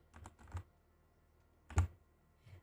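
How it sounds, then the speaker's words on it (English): Typing on a computer keyboard during a flight simulator session, a few quick bursts of close key taps, then a louder cluster of keystrokes and one last soft tap, with quiet between them and no voices. "I apologize if you guys can hear my keyboard."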